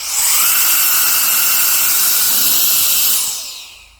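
A small, powerful fan fitted with a jetwash nozzle whines at a high pitch with a strong airy rush, starting abruptly, running steadily for about three seconds, then spinning down.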